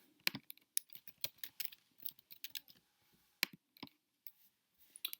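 A computer keyboard being typed on: irregular clusters of sharp key clicks with a few short gaps, close and fairly quiet, no voice over it.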